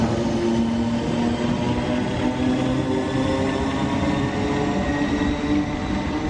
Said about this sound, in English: Sounds like a tube train, doesn't it, in London?